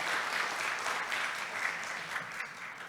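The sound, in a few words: audience applause for a conference speaker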